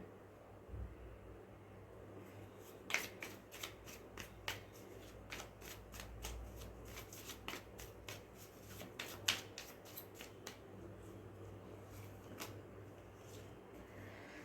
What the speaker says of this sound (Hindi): okay, I'll take one more card.